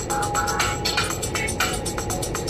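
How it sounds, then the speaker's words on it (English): A custom musical ringtone plays on a phone inside a parked car, a bright electronic tune pulsing in quick rhythmic bursts over a sustained tone, loud and close. "I made a fun ringtone"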